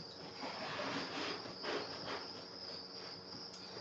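Crickets in breeding bins holding newly hatched young chirp in a dense, steady high-pitched chorus, a close and continuous trilling mass with no voices.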